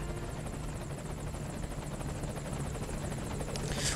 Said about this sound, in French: L'hélicoptère il arrive.